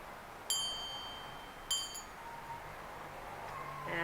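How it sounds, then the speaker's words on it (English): A silver-plated Tudor Plate hand bell is struck twice, each ring a bright, clear ding that lingers and fades, with a softer third tap near the end over quiet room noise. "Very nice silver plate bell."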